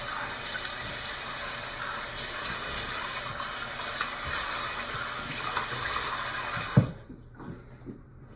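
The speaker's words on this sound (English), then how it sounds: "Let me get washed off real quick." Bathroom tap running steadily into a sink for washing off after a shave, a continuous hiss that cuts off abruptly near the end, followed by a few drips and small clunks.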